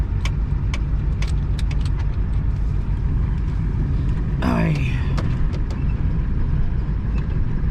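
A four-wheel-drive vehicle's engine runs steadily and close up while driving, with a continuous low rumble, faint jangling and a short rising whine near the middle, and a voice occasionally heard over it.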